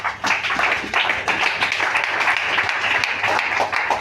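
Church congregation applauding and cheering during a French-language sermon, a dense, steady wash of clapping and voices lasting throughout, loud and close.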